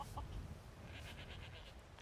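Chickens in the video game Skyrim cluck softly in a quick run of faint repeated notes over a low ambient rumble.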